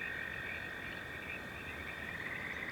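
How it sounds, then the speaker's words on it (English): A dense chorus of frogs croaks in a forest, a steady, loud, buzzing wall of calls with no voices. "Friends and enthusiasts are beckoned from everywhere as the frog extended family creates something that is almost impossible to describe."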